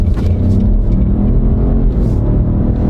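A 1.3-liter turbocharged car with a nine-speed automatic accelerates hard, its engine a loud, steady, close rumble that carries without a break.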